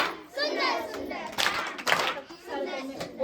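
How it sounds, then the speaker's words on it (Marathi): Schoolchildren clapping together in applause at a village school gathering, a dense burst of hand claps mixed with children's voices and chatter, with someone speaking over it. "त्यांच्यासाठी छान छान सुंदर सुंदर टाळ्या वाजवूया"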